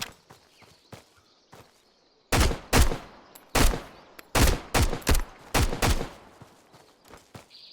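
Gunfire in the video game Road to Vostok: several loud, close single shots and quick pairs spread over several seconds, each booming crack trailing into a short echo, with fainter thuds and clicks in between.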